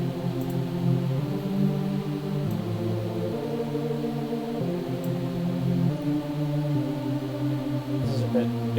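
A sustained, warm supersaw synth pad plays slow chords that shift every second or so, dark and muffled with the highs rolled off by a low-pass filter, steady and unbroken.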